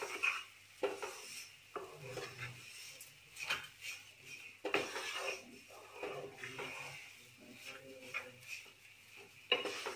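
Atta halwa with sugar and cardamom powder being stirred in a pan, giving soft intermittent scraping and rubbing with light utensil clinks, fairly quiet and close.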